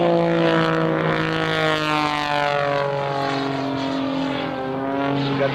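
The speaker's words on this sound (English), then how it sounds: "Got that big composite propeller really turning, really making a good time. It is screaming for all it's worth today." Small aerobatic airplane with a big composite propeller at full power, a loud, steady droning engine roar with a pitch that shifts as it turns through a manoeuvre.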